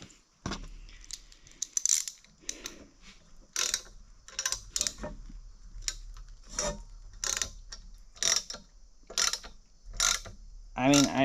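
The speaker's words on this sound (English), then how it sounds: "my favorite thing to do is tapping aluminum" A tap cuts threads into an aluminum pulley from a White 8700 combine, with a series of sharp metallic ratcheting clicks in irregular bursts, close and fairly loud.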